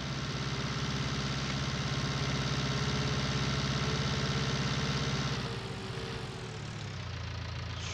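A New Holland tractor in Farming Simulator 19 runs with a steady, droning engine rumble and low vibration for several seconds, then drops to a softer, quieter idle; no voices are heard.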